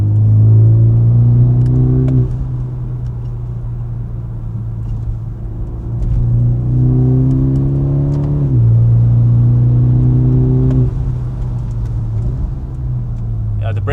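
Base-model BMW 2 Series coupe accelerating through gears, a steady engine drone that climbs in pitch, drops at each shift and climbs again, heard from inside the cabin with no talking.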